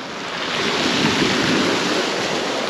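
Strong wind blows in off the Black Sea at Lazarevskoye, Sochi, a steady broad roar mixed with the wash of surf.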